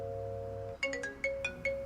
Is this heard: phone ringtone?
yes